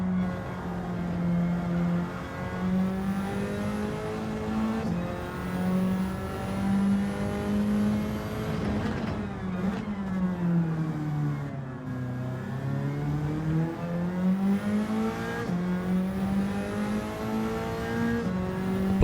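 In Gran Turismo 7, a race car engine screams through a continuous high rev, dipping briefly as it lifts off, then pulling hard again. The engine sound stays loud and close throughout, with no voices.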